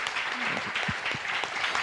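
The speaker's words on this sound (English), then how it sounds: "please join me giving a big hands applause to our panelists here" Audience applause for the panelists at the Ketagalan Forum, a steady, even roar of many hands clapping from a seated crowd, with a few faint voices mixed into the wash.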